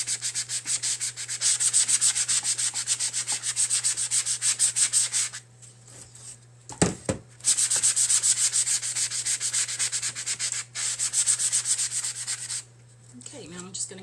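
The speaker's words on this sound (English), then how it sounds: "sanding blocks from the Dollar Tree. They have one that's fine to medium and then another one that's medium to coarse" Fine-to-medium sanding block rubbed over a wooden mirror frame in steady, fast back-and-forth strokes, close and fairly loud, with a brief pause midway and another near the end.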